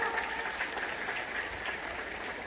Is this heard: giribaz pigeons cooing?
no